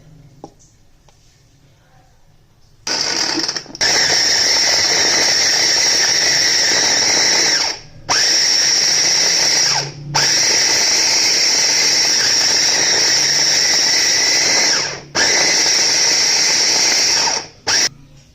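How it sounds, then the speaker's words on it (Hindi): An electric chopper whirs loudly as it chops chicken with onions and green chilies for seekh kabab salan, running in three long bursts separated by brief pauses after a quiet start. "अब मैं इसके अंदर चिकन डाल के ना चिकन को चॉप करती हूँ।"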